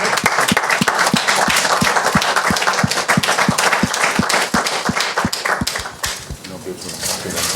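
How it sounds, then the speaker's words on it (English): A loud round of audience applause welcomes rugby player Sonny Bill Williams on stage at a Toronto Wolfpack press conference, with sharp, evenly spaced claps over a dense wash of clapping that thins slightly near the end. "I'll give you a round of applause"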